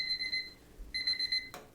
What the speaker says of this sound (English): there goes our timer